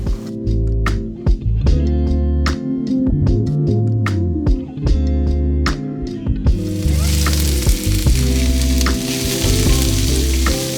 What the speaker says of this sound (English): you want to fry your spices so that they get really delicious smelling